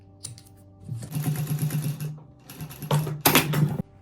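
A sewing machine stitches twill tape onto fabric for a T-shirt collar, running in steady bursts of close, rapid mechanical chatter with short pauses between runs and no voices.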